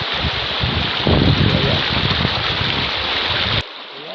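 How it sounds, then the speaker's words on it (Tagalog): Rushing river water flows steadily and fairly loud for several seconds, then cuts off abruptly near the end. "Nakikita mo yung mga agos ng tubig."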